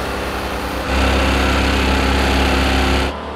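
BMW engine running without oil, a harsh buzzing drone that surges louder for about two seconds as it revs up to a soft limiter, then drops back to a rough idle.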